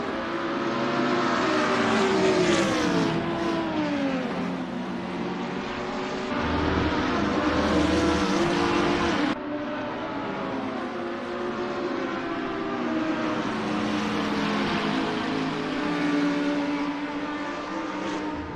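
GT3 race cars, including a BMW Z4, lapping Barcelona at night in the Assetto Corsa sim, their engines roaring continuously with rising and falling revs and gear changes, loud and close, with no talking.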